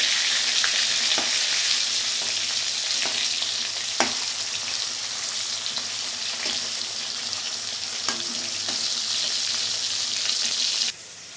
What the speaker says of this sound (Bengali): পটল ভাজা হচ্ছে